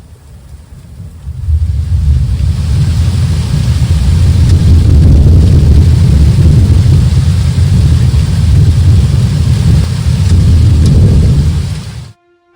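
Heavy rain drums down steadily during a night thunderstorm, a loud dense roar with low rumbling that swells in after a quiet start and cuts off abruptly near the end.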